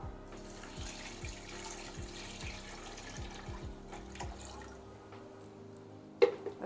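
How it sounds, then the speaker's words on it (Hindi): Two litres of water pour steadily into a pot for yakhni, a steady liquid rush with a rising fill tone and repeated soft drips. It stops near the end, followed by a single sharp clink. "यखनी बनने के लिए 2 लीटर पानी डाल रही हूँ मैं।"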